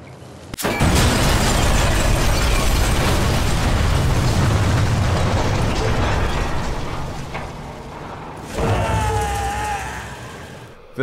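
Homemade fireworks go off in Sniper Elite 3: a sharp bang opens a long roaring crackle of bursts and pops, with a second loud burst near the end and a voice briefly under the noise.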